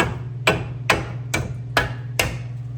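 Five evenly spaced metal hammer strikes knocking a bent splash shield out of the way under a 2007–2015 Ford Edge during CV axle work, each a sharp close bang with a low steady hum underneath.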